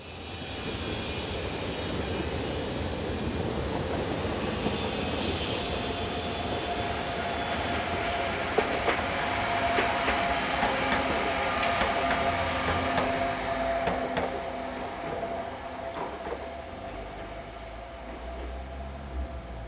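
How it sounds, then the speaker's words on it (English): A train rumbles past on the BLS line between Thun and Kandersteg, Switzerland, with a heavy, continuous roar and rail clatter, a locomotive's drone running under it, with occasional squeals and clanks throughout. "The loco runs back to the depot and is passed by 535105 with a service for Zweisimmen."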